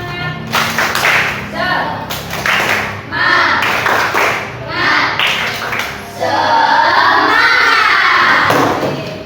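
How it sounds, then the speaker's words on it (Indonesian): Schoolchildren in a fourth-grade Islamic religious education class perform a rhythmic spirit clap, bursts of patterned clapping and thumps interspersed with loud group chanting and shouting, ending in a sustained chorus of voices. "mari kita tepuk semangat dulu"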